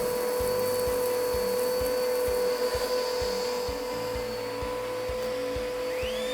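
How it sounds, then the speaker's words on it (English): A Quantum Vac vacuum cleaner runs with a steady loud motor whine as it sucks up a cup of dirt, the pitch and tone shifting slightly as the dirt goes in, with rhythmic rubbing underneath. "Now, we will vacuum up this cup of dirt and check the airflow speed."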